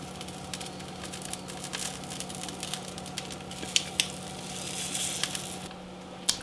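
Venison tenderloin sears in a cast iron pan, a soft steady sizzle with scattered faint pops and crackles, quiet and close.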